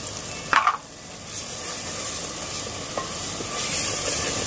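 Green spinach, chilli and coriander paste with a coconut-onion paste sautéing in a pan for green chicken masala gives a soft, steady sizzle and a few light stirring scrapes, close and fairly quiet.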